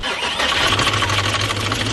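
Volkswagen Touareg engine, just repaired after long misfiring, catches and runs with a loud, steady mid-pitched hum and rough texture, close by with no talk over it.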